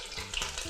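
Flour-coated snapper pieces hit very hot oil, giving a close, steady crackling sizzle with brief surges of spattering.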